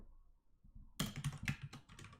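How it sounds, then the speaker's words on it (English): Keys clatter on a mechanical keyboard in a quiet room, a quick burst of crisp, close clicks following a near-silent pause. "I like the sound of you typing. You know, I mean, you know what? It's just the mechanical keyboard."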